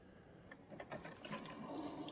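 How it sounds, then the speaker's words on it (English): A Cuisinart 12-cup Coffee Center starts brewing its first water-only flush cycle, with gurgling, sputtering water and bursts of bubbling that build over a soft background hiss. The sound is fairly faint, and nobody speaks. "my coffee maker is going to start that percolator action"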